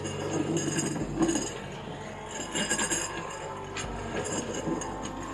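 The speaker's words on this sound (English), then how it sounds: "Now for this video I'm pushing the glass, just so as demonstration, but it will often circle round, finding the letters and the numbers on the board." A glass pushed across a ouija board makes soft scraping slides punctuated by light clinks and taps, close and quiet, continuing unevenly for several seconds.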